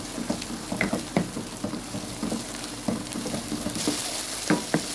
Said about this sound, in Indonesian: Kemudian tumis-tumis sama bawang.